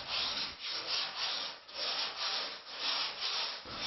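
Sanding filler on a fiberglass molded fuselage, heard as a steady series of rhythmic rasping back-and-forth strokes, close and fairly quiet, with no voices.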